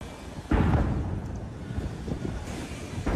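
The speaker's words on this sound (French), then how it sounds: "Le son du canon résonne dans tout Londres." A deep cannon boom from a gun salute in London sounds from a distance and rolls out into a long rumble, with a second blast starting just before the end.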